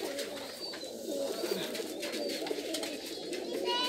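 Domestic pigeons coo repeatedly in a pigeon farm, soft rolling calls overlapping at close range against a low background murmur.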